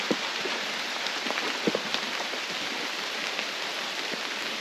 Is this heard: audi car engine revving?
no